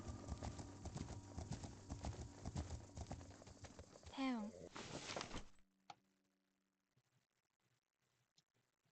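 Horse hooves clip-clop in a rapid, steady rhythm in a video game, loud and close, with a brief vocal sound near the middle before the hoofbeats stop abruptly and only faint, sparse noises remain.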